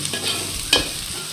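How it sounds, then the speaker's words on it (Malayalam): Onions stirred in a hot pan for Kerala-style beef roast, a soft steady sizzle with a sharp scrape or clack near the middle, brief and close. "ഇളക്കി കൊടുക്കുക ഉള്ളിയൊക്കെ ഒന്ന് നല്ലതായിട്ട് ചൂടായി വന്നിട്ടുണ്ട്"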